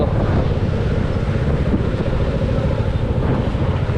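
Floodwater released into a river near Pune rushes past in a constant, loud, close roar, heavily buffeted by wind across the microphone, with no voices heard.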